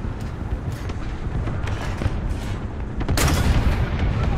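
Anti-aircraft gun firing in War Thunder, a steady run of heavy booming shots with a louder, denser burst near the end.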